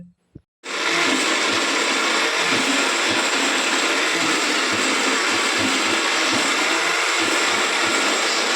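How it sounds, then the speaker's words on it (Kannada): A kitchen mixer grinder starts after a brief pause and runs at a loud, steady whirring roar, grinding a chutney of peanut, coconut, tamarind, salt, coriander and mint. "ಇವಾಗೆ ಚಟ್ನಿ ನಾನು ರುಬ್ಕೊತೀನಿ"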